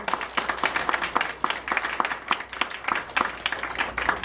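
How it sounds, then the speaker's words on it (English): A graduation audience claps in a scattered, uneven round, individual hand claps distinct and fairly close, moderately quiet in a room with a little background murmur. "let's give them a round of applause"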